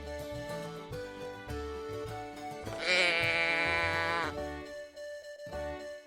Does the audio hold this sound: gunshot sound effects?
no